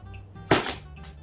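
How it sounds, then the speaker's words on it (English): A Gunfighter 1.5 frame paintball marker fires Valken New World paintballs in a quick pair of sharp, loud pops, heard up close and alone. "we're going to shoot some Valken New World to see how it shoots"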